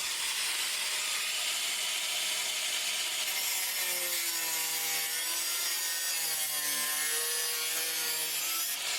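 A saw cuts through an old rusty metal fuel filler bracket in a steady, continuous rasping hiss, close and loud, with squealing tones rising and falling as the blade bites, and no voices.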